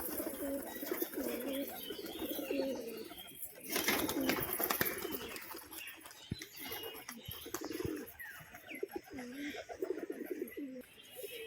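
Pigeons kept at a home loft in Chakdaha, Bishnupur, coo in repeated low rolling phrases throughout, with some wing flutters and background noise, and people talk in between.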